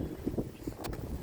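Strong gusts of wind during a night storm roar and buffet the microphone in a steady rumbling wash, with a brief sharper gust standing out partway through.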